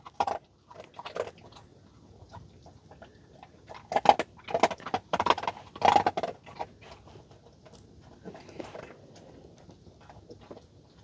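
A dog chews a peanut butter treat up close, giving irregular wet crunches and gnawing bites in bursts, some louder and some faint, with quiet pauses between.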